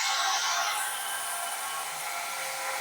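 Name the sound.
compressor starting up in autonomous power station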